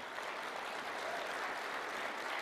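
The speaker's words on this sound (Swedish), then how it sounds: "Kan vi ge en applåd till Tony Gadd?" A church congregation applauds at a Sunday service, a dense, even wash of clapping that holds steady at full strength for the whole stretch, with no voices over it.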